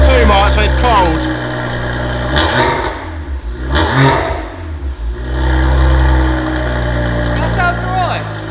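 Straight-piped BMW 135i 1M replica idling loud and close, a deep throbbing exhaust drone with a couple of brief blips in the middle, while people talk over it.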